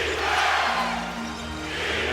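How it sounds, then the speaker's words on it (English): Crowd in a packed basketball arena, the Staples Center during the Lakers–Celtics 2010 NBA Finals Game 7, roars with a steady, loud cheering wash that holds for the whole moment. "And the crowd fired up again."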